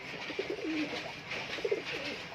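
High flyer pigeons in a loft give a few soft, throaty coos in short rolling bursts, near and fairly quiet, with no talking over them.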